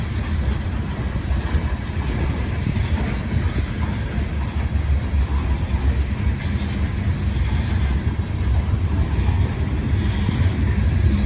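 A southbound unit grain train rolls past in a steady, heavy rumble of wheels and engine noise that holds loud and continuous throughout, with no voices.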